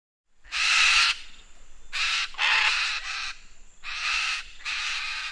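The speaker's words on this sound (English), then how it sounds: "macaw" Harsh, raspy macaw squawks burst out in six loud screeches of uneven length, close and clear against a quiet background with no talking.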